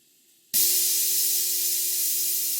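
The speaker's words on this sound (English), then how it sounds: "The 504 boiler is blowing off now" A model steam boiler's safety valve blows off: a loud, steady hiss of steam bursts out suddenly and keeps roaring without a break, with a faint tonal ring underneath.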